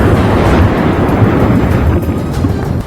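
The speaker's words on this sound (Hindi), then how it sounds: "ज्वालामुखी के विस्फोट के बाद सामने आए एक वीडियो में तेज आवाज के साथ अंगारे धरती से तेजी से निकलते दिखाई दिए" Volcanic eruption with lava and embers bursting out, a loud continuous roaring rumble with dense low-end power and a few sharper crackling bursts, close and overwhelming throughout.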